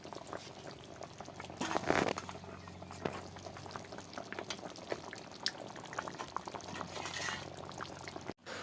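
A pot of pork curry seasoned with cumin powder and meat masala bubbles at a steady, close boil, rising into a louder burst of bubbling early on before settling back to a continuous simmer.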